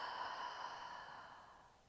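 A long, soft exhale through the mouth during a hypopressive breathing exercise for the pelvic floor, a steady airy rush that fades slowly over two seconds, close and quiet, with no talking.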